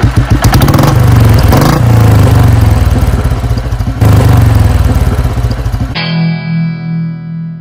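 A Royal Enfield Bullet 500 single-cylinder motorcycle engine running loud and close with a rapid, pulsing thump, then cutting off abruptly into a brief tonal ringing near the end.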